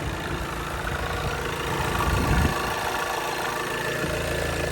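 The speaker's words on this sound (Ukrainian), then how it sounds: "Увага, працює двигун." A cold diesel engine of a 2019 Volkswagen Touran 2.0 TDI 150 hp idles steadily with a rough, knocking clatter and a deep rumble, continuous and close, with no voices.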